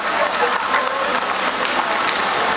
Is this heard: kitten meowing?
no